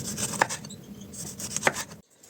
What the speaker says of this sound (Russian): Теперь 2-3 помидора режем колечками